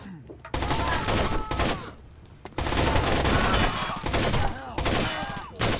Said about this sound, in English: I'm shooting this guy about 40 times and it's not happening because of the recoil